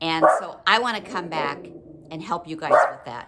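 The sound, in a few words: dog barking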